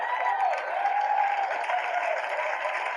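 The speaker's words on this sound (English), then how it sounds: "People are laughing and clapping" Audience applause and clapping fill the space in a steady, dense wash at moderate distance, with a faint murmur of crowd underneath and no break.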